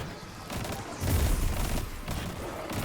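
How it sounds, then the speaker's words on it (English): A grenade thrown and exploding in the Destiny 2 activity Insight Terminus, heard as a dull low boom swelling about a second in over dense game noise and scattered gunfire, with no talk. "I'm going to throw a grenade, see if I can get some recharge going."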